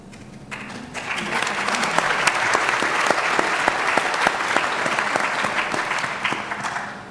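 Sustained audience applause at a diversity conference panel, a dense wash of many hands clapping that swells after the first second and holds steady and loud to the end.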